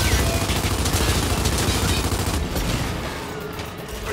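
Blind-fire gunfire from cover in the Gears 5 video game comes as dense, rapid bursts, loud and continuous at first, then thinning slightly toward the end, with faint voices underneath.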